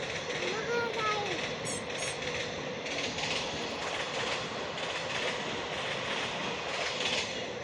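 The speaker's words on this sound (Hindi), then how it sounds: "ट्रेन गई। आओ दिखाऊं। वो जा रही।" Train passing nearby with continuous rumbling and clattering rail noise throughout, while people talk over it.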